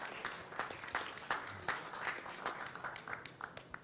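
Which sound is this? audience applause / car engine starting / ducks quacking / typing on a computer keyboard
audience applause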